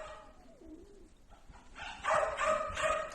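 A rescued bird, apparently a pigeon or dove, gives soft cooing calls in a quiet indoor space, starting faint and swelling into several louder, close coos toward the end.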